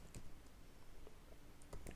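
Computer keyboard being typed on during coding work, giving faint scattered clicks of keys in uneven bursts at low volume, with no talk.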